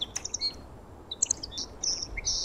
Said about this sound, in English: So far, you can hear the birds chirping.